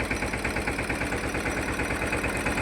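A tractor engine labours under heavy rotary tiller load, a loud continuous rumble with a fast regular pulsing throb that holds steady throughout, with no voices.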